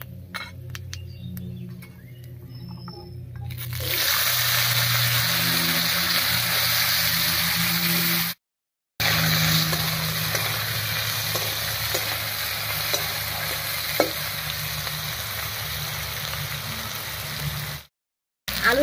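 Cut potatoes dropped into hot mustard oil with chillies and panch phoron in a wok, first scraping and clinking, then a loud steady sizzle close by that fills the pan, broken by two brief silent gaps.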